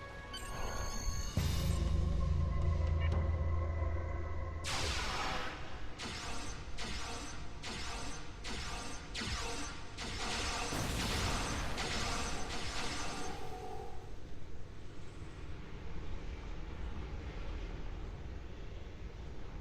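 Big red bugs bursting apart as they die in the video game Star Trek Online, a rapid run of about ten sharp popping bursts over a steady mechanical rumble, followed by a lingering crackling wash.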